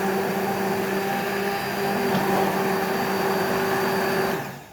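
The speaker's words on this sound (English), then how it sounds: "If you have your blender out or partly out, it will spray you, and that is not what you want." An immersion blender pureeing tomato sauce for meatballs runs in a steady, loud, continuous whir with a constant motor hum, then cuts off at the end.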